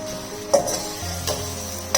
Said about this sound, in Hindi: प्याज को ऑयल के अंदर फ्राई होते तकरीबन 2 से 3 मिनट हो गए